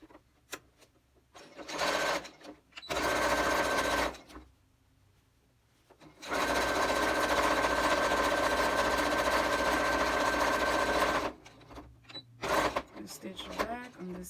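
A sewing machine stitches a fabric face mask in two long bursts, with short pauses of handling in between, close and loud.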